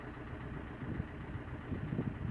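A Fiat Grande Punto 1.3 Multijet diesel idles steadily after starting, a faint low rumbling engine hum with slight uneven pulsing, heard from inside or near the car.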